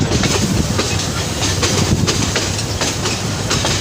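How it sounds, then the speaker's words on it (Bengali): Intercity train running on rails, a loud continuous rumble with rhythmic clickety-clack of wheels over track joints, heard up close with no talking. "এইভাবেই প্রতিদিন প্রতিনিয়ত ছুটে চলছে ইন্টারসিটি আন্তনগর ট্রেন"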